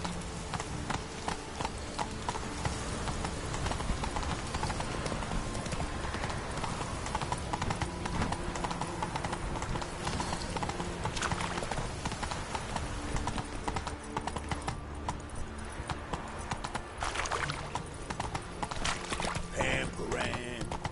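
Hooves clip-clop at a steady gallop as a horse runs in The Witcher 3, loud and continuous throughout, with game sounds layered over the rhythmic beats.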